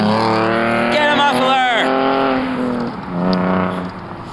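A loud car with no muffler roars past on a street, its engine note rising and then fading, with a second rumbling swell toward the end.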